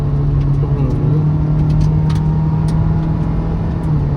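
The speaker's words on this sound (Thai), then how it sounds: "ฟังเสียงเครื่อง" A loud, steady supercar engine roar at a supercar racing event in Thailand dominates throughout, with a constant deep hum and rumbling texture, close and continuous.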